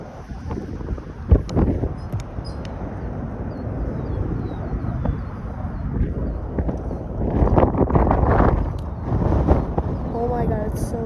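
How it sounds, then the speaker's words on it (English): Strong wind gusts roar across an airport runway at O'Hare, a steady, loud rush that swells and buffets the microphone throughout, with a brief sharp thump near the start. "Oh my god, it's so windy."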